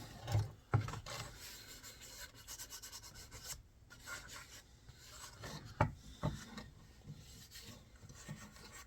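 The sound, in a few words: rubbing linseed oil into a cherry wood cutting board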